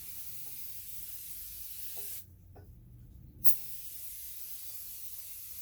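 A spray gun hisses steadily with a soft airy rush, spraying ceramic coating onto wheels, cutting off briefly in the middle before resuming, with a small click as it restarts.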